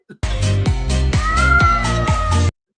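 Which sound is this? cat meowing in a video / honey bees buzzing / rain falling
cat meowing in a video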